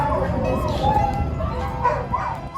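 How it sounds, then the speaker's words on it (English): Several dogs yip and bark in a steady, busy chorus at some distance, with voices mixed in underneath throughout. "those dogs just start going off"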